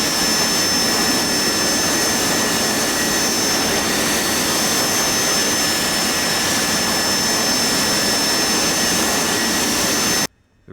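An AV-8B Harrier jet engine in the DCS flight simulator, a steady loud roar with a high whine that holds unbroken for about ten seconds before cutting off abruptly.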